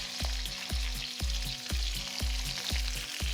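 Fresh pork sausages frying in a pan with potatoes, a steady close sizzle over a regular low thumping pulse.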